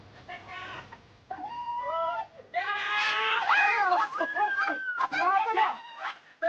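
Ducks quacking and squawking up close at a duck pen, loud overlapping calls filling the clip with brief pauses between bursts.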